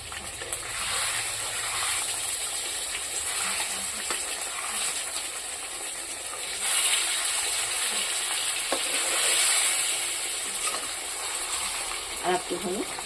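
Tilapia fish sizzles and fries in a pan, a steady loud hiss with occasional stirring and flipping clatter, while a voice speaks softly at times.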